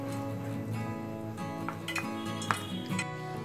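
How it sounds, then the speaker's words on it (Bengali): A spoon stirs palm-fruit malpua batter with milk in a bowl, giving light, close clinks and scrapes against the bowl at an irregular pace, with soft music playing underneath. "দুধ দিয়ে ব্যাটারটা খুব ভালো করে মিশিয়ে নিতে হবে"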